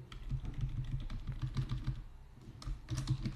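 Computer keyboard typing code, a quiet, rapid patter of close key clicks in bursts with a brief pause near the middle, no talking.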